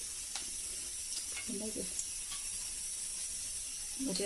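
Whole spices such as cinnamon, cloves and cardamom, along with stone flower, sizzle in a few spoons of hot oil in a wok, giving a steady close hiss with faint crackles; a voice speaks briefly over it.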